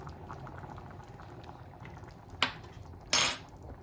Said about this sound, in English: So now it's just started to boil now.